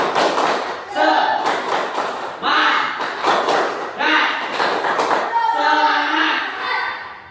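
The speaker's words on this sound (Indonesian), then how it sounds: "coba tepuk semangat dulu" Students in a classroom perform a rhythmic spirit clap, loud bursts of patterned clapping and thumps in several rounds, with children's voices chanting along throughout.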